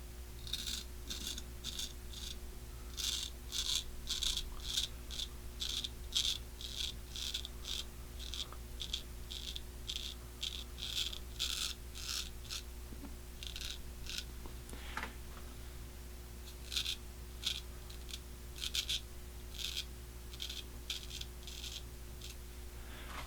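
Straight razor scraping through facial stubble in repeated short rasping strokes, close and crisp, arriving in quick bursts with brief pauses between passes and a steady low hum underneath.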